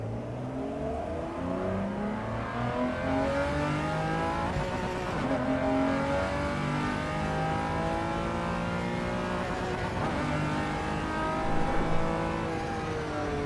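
A race car engine in a racing simulator revs hard against the limiter while being power shifted with slow clutch and shifter movement, rising and falling engine tones sounding continuously with brief dips at each gear change.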